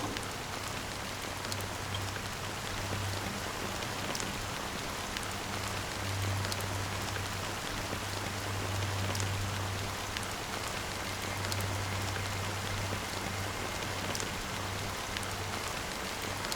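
Steady rain falls in the video game Honkai: Star Rail, a continuous even hiss of drops on surfaces that runs unbroken for the whole stretch with a low hum beneath it and no voices.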